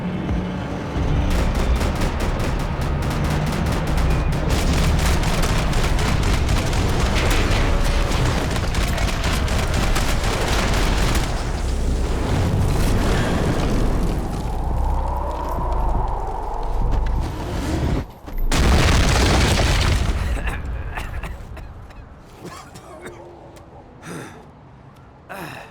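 Gunfire in Max Payne 3 during a firefight, dense rapid bursts and booms layered with game score and effects, loud and continuous before thinning out near the end.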